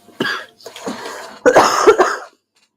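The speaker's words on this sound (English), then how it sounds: "I'm having a really bad coughing fit right now." A person coughs in a short fit: several harsh, close coughs in quick bursts, the last ones heavier and more strained.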